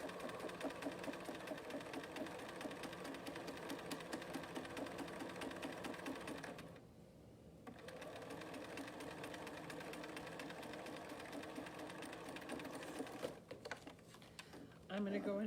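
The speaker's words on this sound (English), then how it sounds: "I'm gonna go ahead and sew" A sewing machine stitches two pieces of fabric with a steady, close mechanical whir and rapid needle rhythm, pausing briefly around the middle before resuming, with faint background voice.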